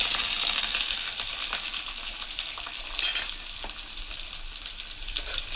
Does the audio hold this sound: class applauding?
no